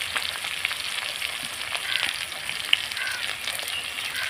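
Chicken pieces fry lightly in a pan with a soft, steady sizzle and a few small pops and scrapes, fairly quiet and without talk.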